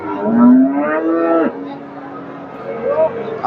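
A Sahiwal cow at a cattle market in Chandaikona, Bangladesh, lets out a long, loud, drawn-out moo close by, followed by a shorter lower call, with faint voices in the background.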